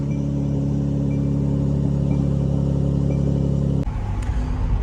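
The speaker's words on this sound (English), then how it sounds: "So turn the car on, turn the exhaust button on." A 2020 Mercedes-AMG C43 idles with its exhaust mode on, a steady deep droning hum with a low rumble, loud and close, then an abrupt shift near the end into a rougher, clattering engine note.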